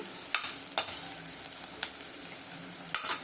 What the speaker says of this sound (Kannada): ಈರುಳ್ಳಿ ಚೆನ್ನಾಗಿ ಗೋಲ್ಡನ್ ಬ್ರೌನ್ ಬರೋ ತನಕ ಹುರ್ಕೊಳ್ಳೋಣ